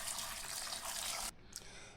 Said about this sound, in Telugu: ఇందులో గ్లాసు వాటర్ పోసుకోవాలి.